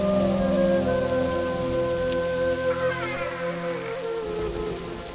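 Heavy rain falls in a steady, dense patter on surfaces outdoors, continuous and fairly loud throughout, with no voices.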